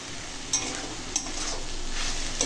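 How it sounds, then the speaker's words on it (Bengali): Ghinalote greens are stirred while frying in a pan, with a constant close sizzle and a few sharp utensil scrapes against the metal. "এইভাবে নেড়ে নেড়ে শাকটা রান্না করব"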